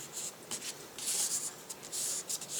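Paper folded for an origami pencil box, quiet close rustling and creasing strokes in short bursts, some longer sweeps near the middle and end.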